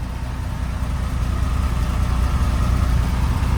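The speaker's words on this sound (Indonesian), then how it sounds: "Nah ternyata ini tuh bis diesel teman-teman, saya kira tuh bis listrik." Diesel engine of a new KKKL bus idling, a steady low rumble heard up close, continuous and unbroken with no talking.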